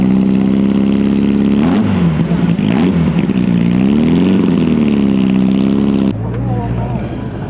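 A classic Porsche Speedster engine revs loudly and close by at a classic car rally in Japan, its pitch rising and falling with throttle blips before dropping to a lower drone near the end.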